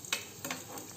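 Batata vada potato fritters fry in hot oil with a soft, steady sizzle, punctuated by a few brief crackles and light clicks.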